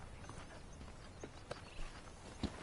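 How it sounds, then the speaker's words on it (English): Saddled horse hooves clip-clop at a steady walking rhythm in a Red Dead Redemption remaster on PS4, quiet and fairly close, with faint game ambience and no talk. "The horses are saddled up over here."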